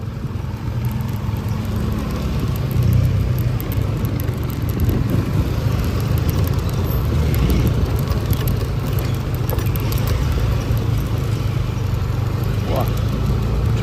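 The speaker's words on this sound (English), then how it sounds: "Little bit traffic jam." Road traffic crawling through a jam in Sanur, Bali after sunset, a dense, continuous engine rumble and roadway drone, loud and close, with voices faintly mixed in.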